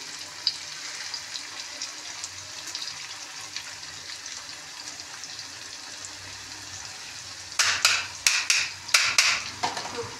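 Garlic, ginger and whole green chilies hit a pan of browned onions with a soft, continuous sizzle, then a quick run of louder scraping and stirring clatters near the end.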